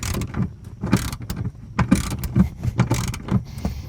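A ratchet with a 19 mm socket tightening the nut and bolt of a tactical pistol mount, quick uneven clicking bursts close to the microphone, alone without talk.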